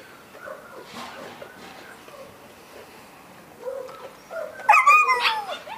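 A young golden retriever whimpers and yips in short bursts, growing louder toward the end, with a person talking nearby.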